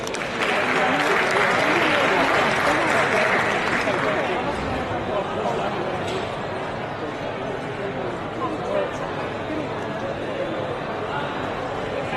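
A crowd at a fitness expo's national-championship repetition bench press competition breaks into loud, sustained applause that gradually eases into a steady murmur of clapping and crowd noise.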